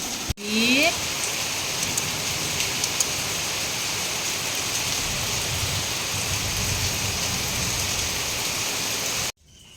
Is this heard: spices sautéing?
no